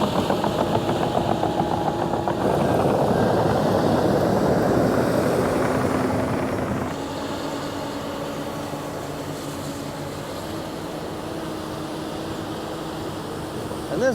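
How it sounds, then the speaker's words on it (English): A Komatsu 360 excavator with an extra-long stick, working on a muddy pond cleanout, drones steadily nearby, louder at first and then easing to a lower, even hum. "this Komatsu 360 is the perfect machine for this job"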